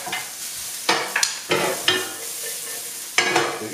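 Ingredients frying in olive oil in a pan as they begin to caramelize, a close steady sizzle broken by several bursts of stirring and scraping, no voices.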